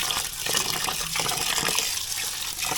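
Water runs and splashes steadily as rice is rinsed by hand in a kitchen, a continuous close-up gush of liquid with no talking.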